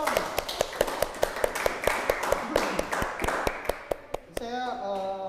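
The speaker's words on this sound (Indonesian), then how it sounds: "Tepuk tangan dulu dong." A small audience clapping in a quick, even rhythm of sharp handclaps, with voices talking over it, before the clapping stops and a short tone rings out.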